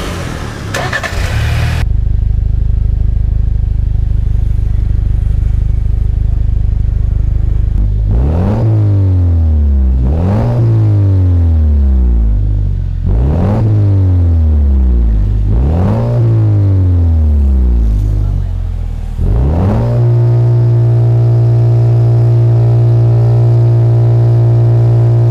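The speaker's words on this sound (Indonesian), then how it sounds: "dengerin dulu suara dari knalpot si Ingen teknologi untuk Jeep JL" A Jeep JL with an aftermarket exhaust gives a deep engine rumble at idle, then five sharp revs with exhaust growl rising and dropping back, followed by a steady idle.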